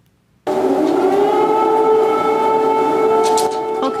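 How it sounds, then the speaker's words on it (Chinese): An air raid siren wails over Kyiv at midnight, bursting in after a brief silence and holding one loud, sustained, steady tone to the end. "乌克兰首都基辅礼拜日半暝个响起空袭警报"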